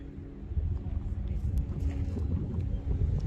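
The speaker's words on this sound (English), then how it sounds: "this huge gust of wind just came out of nowhere" A sudden strong gust of wind buffets the microphone outdoors during a nighttime walking tour, a loud, low, rumbling roar that surges and churns continuously.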